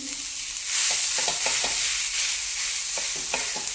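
A besan flatbread sizzles in a ghee-coated pan on low flame as it is pressed and patted by hand, a soft continuous frying hiss with faint intermittent taps, no talking.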